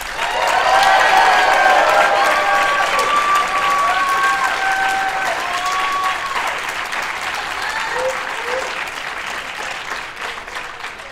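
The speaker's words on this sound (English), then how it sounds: "Clap for them" A large audience applauds steadily for several seconds at a debate awards ceremony, with some cheers and whistles mixed in, slowly fading toward the end.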